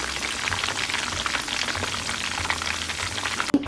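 Tacos frying in a pan give a dense, close crackling sizzle that runs throughout, ending with a sharp knock near the end.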